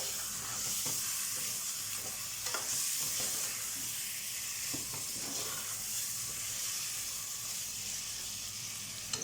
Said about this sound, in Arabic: اللحمه بس تاخد تشويحه كده مع البصلايه